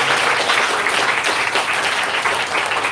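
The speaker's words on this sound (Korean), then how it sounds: "박수 인사하겠습니다." A church congregation claps in thanks after a pastor's sermon at a Sunday worship service, a dense, steady burst of applause filling the room at close range for the full stretch without pause.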